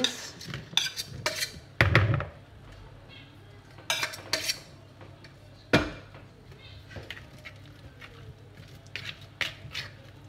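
Cooled apples are folded into muffin batter, a spoon knocking and scraping against the bowl in scattered bursts with quiet pauses between them.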